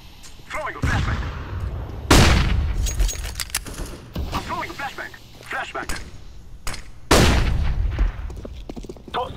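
Video game firefight with bursts of gunfire and several loud grenade blasts, sharp booms landing every couple of seconds among rattling shots, with a voice talking between them.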